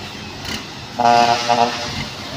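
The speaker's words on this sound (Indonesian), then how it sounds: "truk ini sudah melaju" A truck pulls away and drives along an Indonesian road near a tanker truck carrying palm oil, its engine rising to a steady roar with a horn-like tonal blare in the middle and traffic noise throughout.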